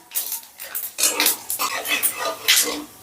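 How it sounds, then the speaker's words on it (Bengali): Whole spices, cloves and cumin, stirred in a pan over low heat: a spatula scrapes and clinks against metal in several short, irregular strokes close by. "এবারে গ্যাসের আঁচটা লোতে রেখে ফোড়নটা আমি একটু নাড়াচাড়া করে নিচ্ছি"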